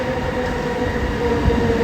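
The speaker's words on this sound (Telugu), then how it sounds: "ఓకే మన వెళ్ళాల్సిన ట్రైన్ వచ్చేసింది" A metro train arriving at a platform in Malaysia rumbles steadily and loudly close by, a continuous mechanical roar with faint rail hiss.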